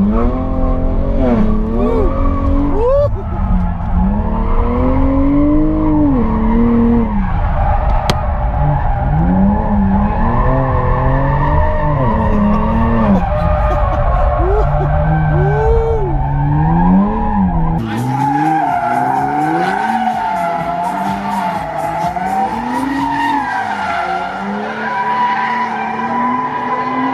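Twin-turbo V6 off-road vehicle with 365 horsepower and an 8-speed automatic, shown at SEMA 2017, revs loudly with rising and falling engine tones and skidding tires throughout. The engine sound stays up close and steady, and it changes character after the midpoint.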